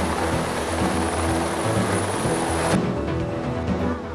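Steady whirring drone of a helicopter in flight, the kind flown on maritime patrol and transport missions, holding level throughout with a faint high whine that drops away partway.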